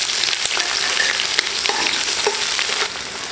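A quarter kilo of large onions frying in oil in a pan, a loud continuous sizzle with occasional sharper crackles and scrapes, close and steady.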